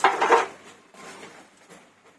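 A lid clatters onto a pot of home-style mutton curry, a single near metallic clank followed by a few faint softer knocks as it settles, with no talk.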